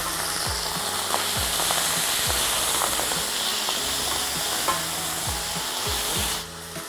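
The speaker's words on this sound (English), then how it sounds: "And it will fry just like this." Chopped lamb liver fries in olive oil inside a pot, giving a steady close sizzle with a bright hiss, while a utensil occasionally scrapes and stirs with soft repeated knocks against the pot.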